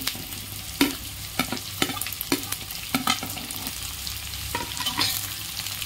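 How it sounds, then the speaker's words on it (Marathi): Chillies, cauliflower, cabbage and potatoes cook in a pan with a soft steady sizzle, broken by repeated sharp scrapes and clicks of a spoon stirring, close up and quiet with no voices. "भाज्या छान शिजवून घेते"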